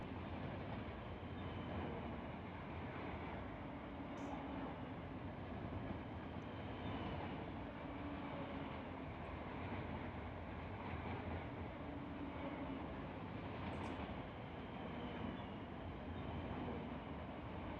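Long train passing in Run 8 Train Simulator, a steady, dense rumble of rail cars rolling by without pause for the whole stretch, with faint clicks now and then.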